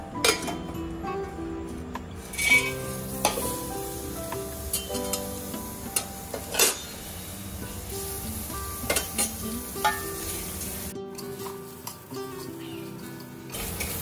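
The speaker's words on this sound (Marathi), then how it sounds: "आता आपण खडे मसाले थोडंसं तेल टाकून भाजून घेऊया." Whole spices, cardamom, cinnamon and cloves, roast in a little oil with a bright, steady sizzle, punctuated by clinks and scrapes as a spoon stirs the pan, close and clear.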